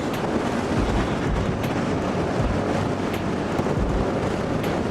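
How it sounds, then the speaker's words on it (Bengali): Strong wind buffets the microphone with a constant low roar and rumble, loud and unbroken from start to finish, while travelling from Dhaka to Bandarban. "প্রচুর বাতাস, বাতাসে কথাও বলা যাচ্ছে না,"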